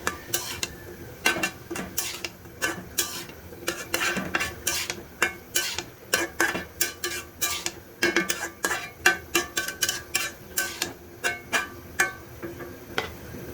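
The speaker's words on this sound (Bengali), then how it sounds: "এটাকে ভালো করে মিক্স করে নিচ্ছি" Spoon repeatedly scraping and clanking against a pan while bean and potato bhaji is mixed, a brisk run of sharp metallic knocks growing more rhythmic toward the end, close and loud with no talking.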